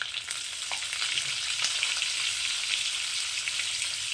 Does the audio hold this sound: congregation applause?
no